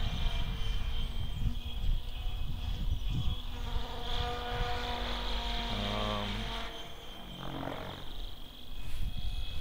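A Synergy 696 RC helicopter spins at 1400 RPM, giving a steady, close buzzing drone with a high whine that holds for the whole stretch and rises slightly in loudness near the end.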